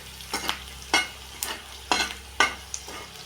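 Bhel tossed into roasted garlic in a hot pan, five distinct scraping stirs about half a second apart over a low sizzle, close and clear.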